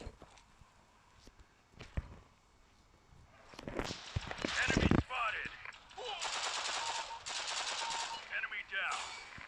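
Counter-Strike: Global Offensive gunfire in rapid automatic bursts, some distant and quieter, then a louder stretch of sustained rattling shots, with occasional footstep-like clatter and a faint voice in the background.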